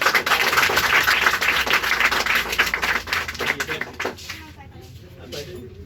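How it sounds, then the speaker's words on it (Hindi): An audience applauds for Simpal Kumari, third district topper in the Bihar board exams from Vaishali, with loud, dense clapping for about four seconds that fades out under talking voices. "सिंपल के लिए एक ताली बजाएंगे"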